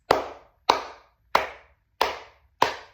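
Five close flamenco palmas hand claps struck unevenly, each a crisp slap with a quick decay, spaced at a roughly regular pace with nothing else heard.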